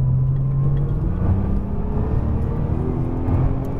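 A Nissan GT-R on a racetrack accelerates hard out of a corner, its engine a loud, steady roar with a rising drone and rumbling undertone that holds for the whole stretch, close and continuous.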